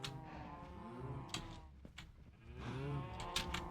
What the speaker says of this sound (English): These are cows.